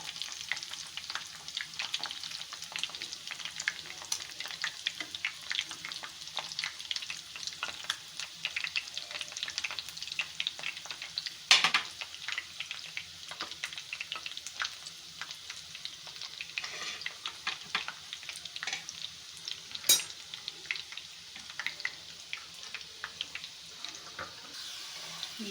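Sliced onions fry in a pan until golden, giving a steady, close hiss of oil sizzle with faint stirring clicks and a couple of sharper spatula knocks, no voices.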